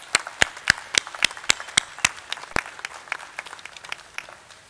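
A small audience at an inauguration function for a photography exhibition claps steadily. The individual claps are distinct and fairly close, starting with firm regular beats and then thickening into scattered, fainter applause.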